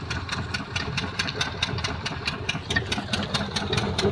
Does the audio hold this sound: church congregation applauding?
no